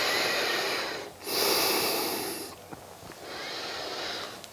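Slow, deep breathing during a yoga wrist stretch: a long hissing inhale, a pause, then a steady airy exhale, close and fairly loud with no talking.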